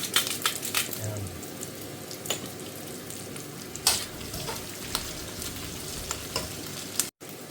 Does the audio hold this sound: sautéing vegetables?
yes